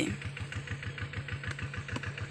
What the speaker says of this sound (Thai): เดี๋ยวผมสตาร์ทรถไถก่อนนะครับ